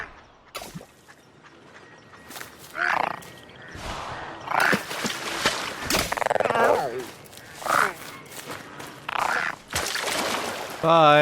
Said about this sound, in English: Let's home in on this frog noise.